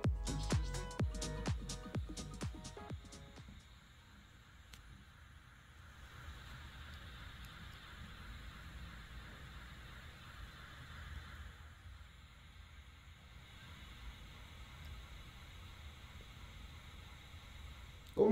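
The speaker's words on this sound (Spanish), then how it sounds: "ahí se pudo escuchar el ruido rosa que producía el subwoofer" Pink noise played through a subwoofer for a Thiele-Small parameter measurement: a steady, fairly faint broadband hiss with low rumble that runs on evenly after a few short clicks at the start.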